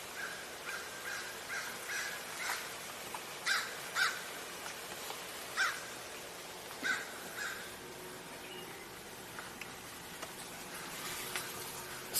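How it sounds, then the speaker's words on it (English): Crows caw outdoors in a series of separate harsh calls spread irregularly over several seconds, moderately distant, over a faint background hiss with no talking. "Where the crows are."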